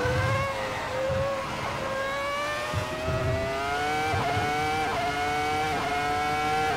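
Ferrari F2004 Formula One V10 in Assetto Corsa at the Nürburgring GP circuit, a high-pitched wail climbing steadily through the gears with brief dips at each upshift, loud and continuous with no talk.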